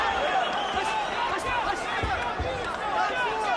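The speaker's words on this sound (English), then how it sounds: "there's oohs and ahs every time Molina lands a punch" A boxing crowd at a welterweight bout reacts with rising oohs and ahs, a dense murmur of many voices swelling around punches, with commentary talk over it.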